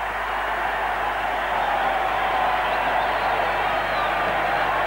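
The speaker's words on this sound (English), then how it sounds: "The crowd has been in a complete uproar for this whole game." Large stadium crowd roaring without pause at the 1978 Brisbane rugby league grand final between Easts and Valleys at Lang Park, a dense, distant wash of noise.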